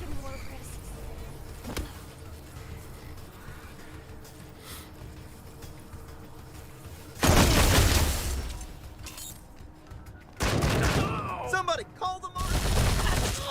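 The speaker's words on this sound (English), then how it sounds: "That man has a minigun. That's not allowed. Only I'm allowed a minigun." Bursts of minigun fire from the video game Wasteland 3 break in as loud, dense rattling volleys over a quieter ambient background, with a voice speaking briefly in between.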